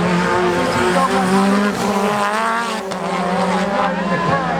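Race cars at a Thundersport circuit race roar past loudly and continuously, engines revving with rising and falling pitch as they take a curve, with some tire squeal and no talk over the sound.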